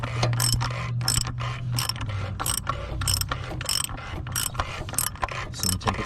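A ratchet clicks in quick repeated bursts while tightening during an oil change on a 2011 Dodge Journey, a steady mechanical rattle close up over a low background hum.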